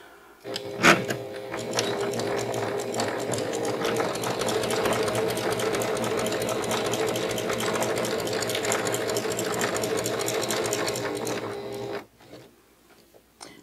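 A sewing machine stitches fabric coasters in one long steady run of fast, even needle clatter lasting about eleven seconds, close and loud, before stopping abruptly, with no talk over it.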